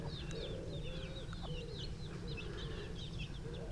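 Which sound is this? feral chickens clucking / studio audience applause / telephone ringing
feral chickens clucking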